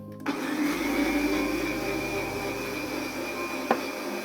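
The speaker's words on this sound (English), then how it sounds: "Starts with putting some chia seeds. Then I crush them." Chia seeds being crushed in a small grinder or blender during a winter Everest expedition routine: a steady whirring motor drone starts abruptly and runs evenly for about four seconds, moderately loud, with a brief clack near the end.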